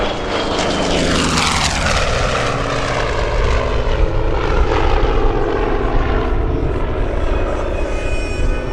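A Collins Foundation A-1E Skyraider propeller plane makes a smoking high-speed pass at the 2012 Rhode Island airshow at Quonset, its loud radial engine roar sweeping by with a falling pitch and staying heavy throughout.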